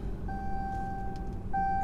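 Two electronic seatbelt warning chimes inside a lifted Ram 2500 diesel pickup, a steady tone starting early and a second one near the end, over low road rumble.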